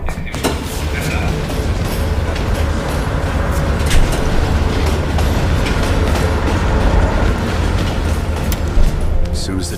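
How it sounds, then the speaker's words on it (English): Steady rumble and rattle of a moving train in Call of Duty Black Ops Cold War, a continuous loud mechanical drone with faint clattering, running under muffled voices throughout. "As soon as the train slows down, you and I'll jump off."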